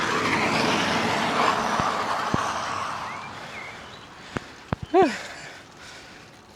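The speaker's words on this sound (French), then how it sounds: "la voiture électrique, il y a que les pneus qui font du bruit." An electric car passes with only its tyres making noise, a broad rushing swell that fades away over a few seconds. A few sharp clicks and a short rising chirp follow.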